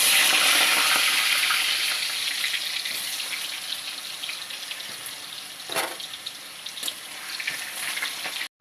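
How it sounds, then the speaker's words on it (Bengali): Potatoes seasoned with turmeric and salt sizzle loudly in hot oil, a dense continuous frying hiss that holds steady throughout, with occasional clinks of stirring and no voices. "তেল গরম হয়ে গিয়েছে, এখন আলুগুলোকে ভেজে নেব।"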